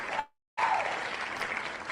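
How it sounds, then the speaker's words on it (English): Crowd applause at a speedway season-preview event, a dense steady clapping that cuts out briefly after the first moment, then returns and continues without talk. "I was listening to the applause."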